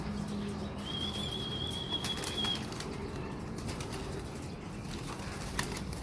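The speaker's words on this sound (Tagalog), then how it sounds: "Ayun, oh, nakita nyo mga kalapatids" Pigeons in a fancier's loft in Meycauayan, Bulacan, with a soft low coo, a brief flurry of wing flaps and a faint chirp over steady background noise.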